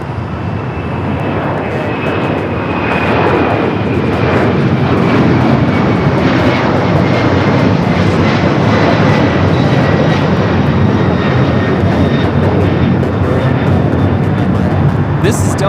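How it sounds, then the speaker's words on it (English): A Delta Airlines Boeing 767-400ER jet taking off from LAX, with a loud, sustained engine roar filling the clip, steady and broad throughout and joined by a faint high whine. "This is Delta Airlines 446 taking off to Atlanta on the 767-400ER."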